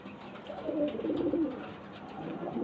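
Old-breed pigeons coo softly near at hand, a low rolling burble swelling and fading over a couple of seconds against quiet surroundings, with no talk.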